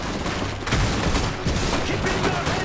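Rapid bursts of mixed gunfire and booming impacts from a battle in the real-time strategy game Iron Harvest, loud and continuous, with heavy hits landing about every second.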